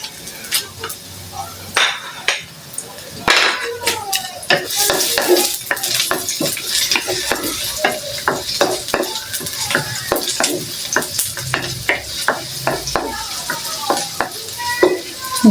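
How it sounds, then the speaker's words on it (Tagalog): Garlic and onion sauté in oil in a pan, with sizzling under frequent metal scrapes and taps of a utensil stirring against the pan, close and continuous. "gigisa lang po natin guys yung sibuyas hanggang sa mag golden brown"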